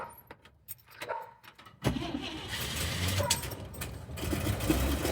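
A 1950 Chevrolet Suburban carryall, unstarted for about two months, cranks after a few quiet clicks and catches into a rough, loud running engine that holds steady nearby, with no speech.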